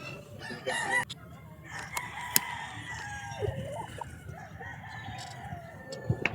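A gamefowl broodcock rooster crows several times nearby, long drawn-out calls with clucks and other fowl noises around it in an open farm setting.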